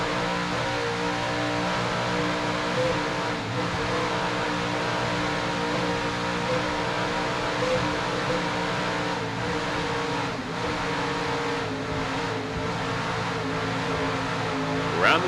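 Racing powerboats with 750-horsepower inboard engines roar continuously at full throttle, a dense, steady engine drone with rushing wind and water noise, heard at race distance without a break.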